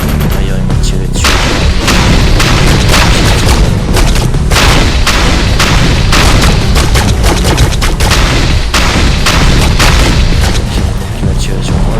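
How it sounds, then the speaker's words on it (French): Machine gun fire in the video game Defiance rattles nonstop as loud rapid bursts and booming impacts that fill the whole stretch, with no talk over it. "je sais pas si c'est parce que le mitrailleur il m'a tiré dessus"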